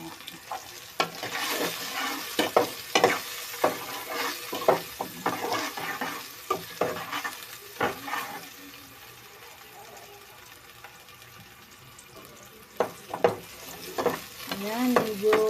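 Ginger and garlic sautéing in a pan for sinigang, with repeated bursts of stirring and scraping over a low sizzle, then a quieter stretch before more stirring near the end.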